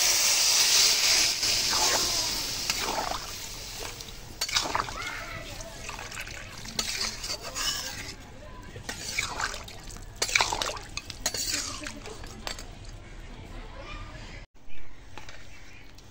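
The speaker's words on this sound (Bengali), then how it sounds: "মশলা কষানো হয়ে গেছে, দিয়ে দিচ্ছি সবগুলো। দিচ্ছি পরিমাণ মতো জল।" Water is poured into a pan of spiced rohu fish-head muri ghonto, with a loud splashing rush at first that thins into trickles and drips, while a voice talks intermittently over it.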